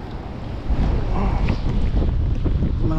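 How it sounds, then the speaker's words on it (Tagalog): Strong wind buffets the microphone at a shoreline by a milkfish pond, a steady loud roar of gusting air and rumble with water lapping beneath, no voices. "Malakas yung hangin yan."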